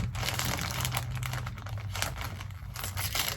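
A cardboard advent calendar flap is ripped open up close, giving continuous crinkling, tearing and crunching paper noise that stays at a fairly even level throughout.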